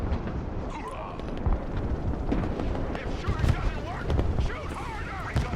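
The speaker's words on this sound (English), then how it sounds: "I can hear explosions." Explosions rumble and thud repeatedly in the Broken Arrow military strategy game, muffled booms overlapping in a dense battle din, with a player's voice talking over them.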